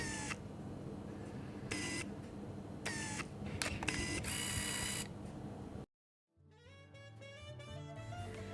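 Konica Hexar AF camera in its quiet mode, a run of short mechanical whirs and clicks from focusing and film advance, close and fairly soft, then a brief silence and a different tonal passage.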